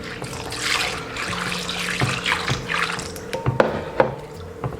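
Running tap water splashes over 300 grams of peeled mung beans, soaked two hours, as they are rinsed clean in a kitchen sink, with steady close splashing and a few sharp clinks and drips.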